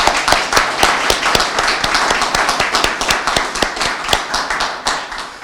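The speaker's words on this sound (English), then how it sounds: "I want to give you another round of applause." A round of applause from a crowd at a press conference and rally, with sharp individual claps standing out in a quick irregular rhythm over a softer bed of clapping, fairly close and without talk.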